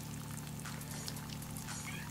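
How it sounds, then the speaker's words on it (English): Water rushes steadily through the lines of a water treatment system as it pre-charges and fills, a constant close hiss and pour with no break. "We witnessed water rushing through the system, filling up."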